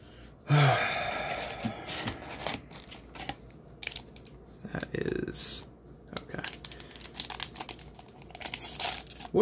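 Foil booster pack of Dragon Ball Super Unison Warrior cards being torn open and crinkled close up, with rustling and crumpling bursts, while a person sighs and talks quietly.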